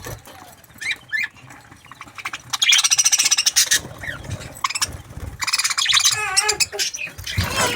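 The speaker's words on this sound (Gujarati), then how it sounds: "તો આપણા બજીઝ" Pet budgerigars chirp, tweet and squawk in a lively, overlapping chatter while pecking at seed, close by and fairly loud throughout.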